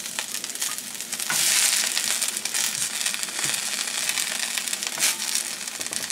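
A couple pounds of green beans hit hot oil in a big skillet, a dense steady sizzle and crackle that swells briefly after a second in and keeps hissing throughout.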